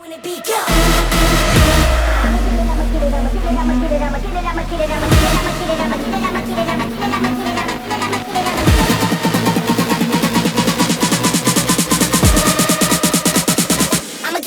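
Rap song played back loud from a recording, with a heavy booming bass beat, dense layered production and a steady driving rhythm running throughout without pause.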